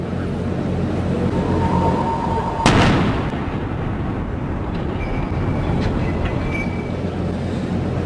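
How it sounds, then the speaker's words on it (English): A bomb accidentally detonated by a police bomb squad near a New York City train station goes off as one sharp, loud blast midway through, then rumbles and echoes over steady background noise. "we just got video of one of those bombs unintentionally being set off"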